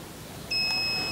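An electronic engine oil tester sounds a single steady high-pitched beep while reading the oil. The tone starts abruptly partway through and holds to the end, with nothing else audible.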